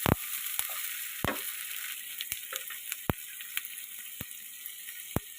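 Potatoes, carrots and beans frying in a pan with a little salt, a steady soft sizzle punctuated by sharp clicks and taps of stirring at irregular intervals.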